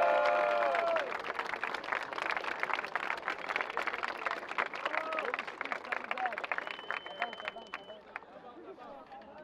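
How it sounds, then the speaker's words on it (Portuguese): A crowd at a Brazilian freestyle rap battle semifinal claps and cheers steadily for several seconds, a dense, loud wash of applause with shouts and voices mixed in. "Barulho só pra quem achou que foi Davizinha"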